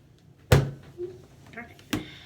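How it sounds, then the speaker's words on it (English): A door in a home is opened by a young girl: a sharp thud and rattle near the start, a quieter creak in the middle, then a second clear knock of the door near the end, with soft household background between. "I hear her opening the door."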